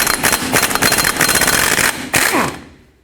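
A 23mm socket on a ratchet or impact tool spins off the lower nut of a steering knuckle on a 2007-14 Chevy Silverado, giving a dense, loud, rapid mechanical chatter close by that fades out at the end.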